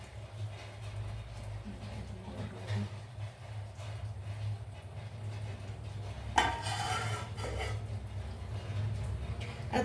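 A spoon stirs crab curry in a pot, making soft scraping and clinking against the metal over a low steady hum, with a louder burst of clattering partway through.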